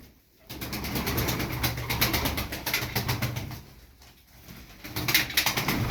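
Tumbler pigeons, a flock of about twelve birds, cooing and rustling nearby in continuous overlapping calls, with a short lull near the end before they swell again.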